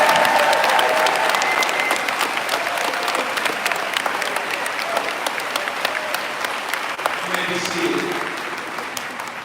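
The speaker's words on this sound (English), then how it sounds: "Please give these students a round of applause." Loud, dense applause from a large audience at a middle school eighth-grade promotion ceremony, sustained and close for several seconds and gradually thinning as it fades.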